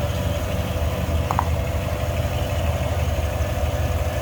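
A 1955 Chevrolet Bel Air with a 265 V8 and four-barrel carburetor idles steadily, a continuous low engine rumble with no revving and no voices.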